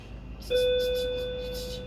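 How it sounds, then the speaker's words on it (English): A doorbell chimes once indoors, a clear tone that starts sharply and rings on with a slow fade, with faint room noise and no talk. "that's the bell ringing."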